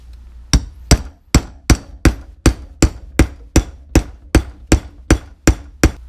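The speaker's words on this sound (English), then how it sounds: "and I believe we just hammer it down." A metal grommet being hammered flat for a tether anchor loop on a 1966 Mustang, about fifteen sharp, evenly spaced hammer strikes, loud and close, with no voices.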